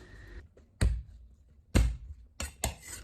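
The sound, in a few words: smashing garlic cloves with a knife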